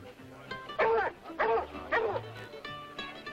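Several dogs bark in quick bursts, three loud barks close together, with softer yelps and background voices between them.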